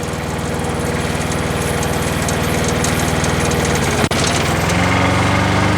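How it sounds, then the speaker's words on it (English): A Palazzani TZX 550 compact tracked spider lift runs with its engine chugging steadily and loudly close by, with one sharp click near the end and no talk. "we're going to go ahead and start the machine"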